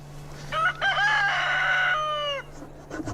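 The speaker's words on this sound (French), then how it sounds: "Le coq, lui, peut enfin se remettre à chanter." A rooster crows once in a long, loud, close cock-a-doodle-doo at a camp of Amazigh nomads in Morocco, over a steady low hum, followed by faint background sounds.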